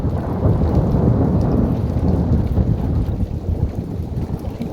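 Constant rolling thunder during a heavy thunderstorm with rain, a loud continuous low rumble that never lets up across the whole stretch.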